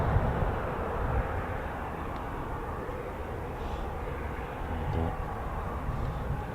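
A CV-22 Osprey tiltrotor of a special operations wing flies overhead at an airbase, a loud, steady broadband roar with deep low rumble that holds level throughout, no voices present.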